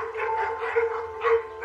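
Abandoned puppies tied to a fence in a dog park on a hot day give short, high yips and whining barks in a couple of quick bursts, close by and fairly clear, with no talk.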